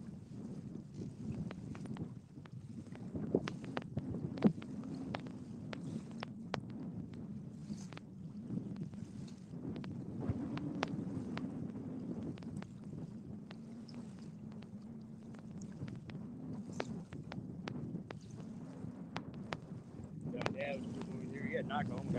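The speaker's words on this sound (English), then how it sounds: "it ain't bad out until that wind kind of starts picking up" Wind buffets the microphone on a sand bar by the Mississippi River, a low, continuous rumble with gusty swells. Scattered small knocks and handling noises come through, and no clear speech is heard.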